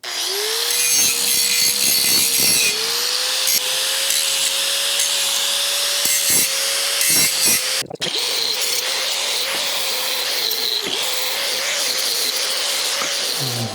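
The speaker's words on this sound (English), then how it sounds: "I'm gonna clean up the mill scale off, and I'm gonna cut a little a little bevel on the tube here" Power tool grinding and cutting steel tubing, cleaning off mill scale and beveling the tube edge for a trailer frame weld; a loud, steady abrasive whine runs almost continuously, with a brief break near the middle.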